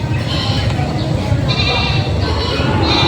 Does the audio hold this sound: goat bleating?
yes